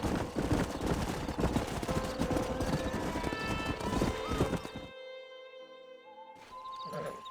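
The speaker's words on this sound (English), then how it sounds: "We got some fine horses." Horses in the Red Dead Redemption video game trot with steady clip-clop hoofbeats and give a neigh, loud and close, before the scene drops to quieter game ambience with a lingering tone.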